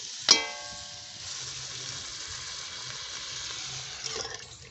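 Water is poured into a pan of village-style crab curry with fried spices over high heat: a sharp metallic clink, then a steady hissing rush and sizzle that fades slightly, with no voices.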